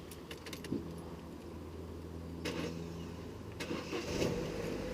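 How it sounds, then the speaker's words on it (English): Keys jangle briefly, then a Vauxhall Corsa engine with its engine management light on cranks and starts, settling into a low idle with a few more clinks of keys. "Now we're going to turn the car on"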